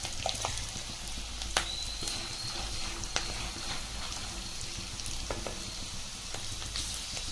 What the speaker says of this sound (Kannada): ಸ್ವಲ್ಪ ಶೇಂಗಾ ಚೆನ್ನಾಗಿ ಫ್ರೈ ಆಗಬೇಕು